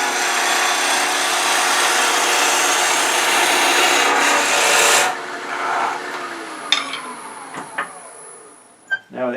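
A woodturning tool, a carbide scraper or easy rougher, cuts pine spinning on a lathe, giving a loud, steady rasping shear for about five seconds before lifting off into quieter lathe whir and a few sharp taps.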